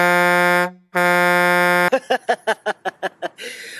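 Two long, loud electronic buzzing tones with a brief gap, followed by a quick series of short rhythmic beeps and a burst of noise.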